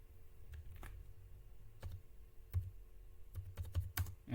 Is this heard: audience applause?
no